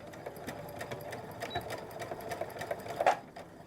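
A sewing machine backstitches at the start of a skirt seam, its motor whirring steadily at moderate volume with a rapid needle clatter that speeds up slightly near the end.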